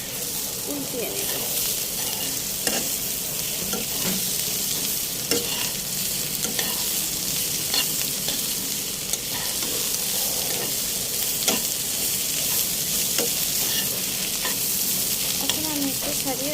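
Bitter gourd and shrimp fry in a pan with a steady, close sizzle, while a spatula stirs and turns the pieces with scattered scraping clacks throughout.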